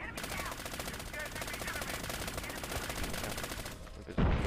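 Sustained rapid automatic gunfire in Call of Duty Mobile, a dense, steady rattle of shots lasting several seconds before cutting off abruptly.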